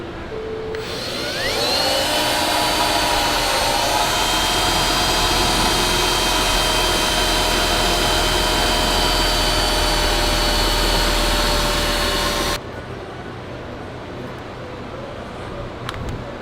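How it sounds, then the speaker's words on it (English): A drill with a 3/8 bit whines up to speed and holds a loud, steady, close drone for about ten seconds while boring a hole during a Fox shock install on a Ford E-Series Class C motorhome, then cuts off to lower background noise. "you can use just that normal 3/8 drill bit. We're just gonna come up in here."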